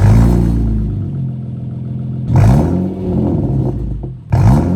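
Honda Accord 3.0 V6 on a seventh-generation build revs loudly through its exhaust in three sharp bursts, each rising and falling, with a lower idle rumble in between.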